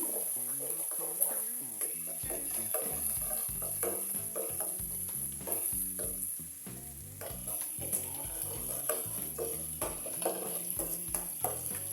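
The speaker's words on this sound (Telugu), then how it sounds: "అల్లం వెల్లుల్లి బాగా వేగాలండి." Ginger garlic paste fries in hot oil for a chana dal curry, a close, continuous sizzle broken by frequent stirring clatters, with a thin high whine throughout.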